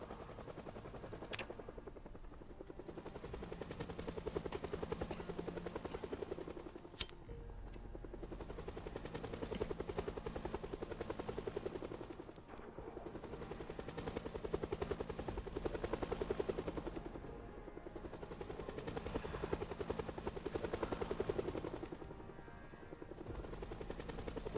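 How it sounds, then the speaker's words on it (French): A helicopter circles in the survival video game Project Zomboid, heard as a steady, faint, distant rotor drone that rises and falls in slow waves, with one sharp click partway through and no talk. "il dure longtemps cet hélicoptère là"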